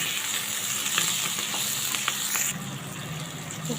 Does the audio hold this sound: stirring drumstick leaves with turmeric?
yes